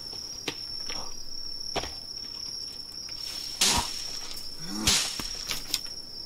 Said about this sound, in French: t'entends les chants de cigales